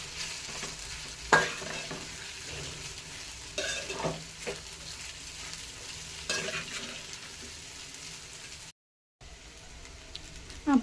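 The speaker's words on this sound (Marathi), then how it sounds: "यामध्ये आता आपण साबुदाणा ॲड करूया। हे सर्व आपण मिक्स करून घेऊया।" Sabudana (sago) is stirred in a hot pan, a spoon scraping and pushing the mixture through a soft, steady sizzle in repeated close strokes, with a brief silent gap near the end and no talking.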